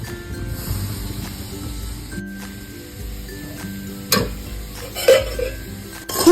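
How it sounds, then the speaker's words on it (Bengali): Minced fish mixed with chopped coriander and lemon juice in a pan, stirred with a spatula that scrapes and clinks against the metal, with a light sizzle underneath and a few sharper knocks toward the end. "খুব ভালো করে ধনেপাতাটা এবার মাছের সাথে মিশিয়ে নেব।"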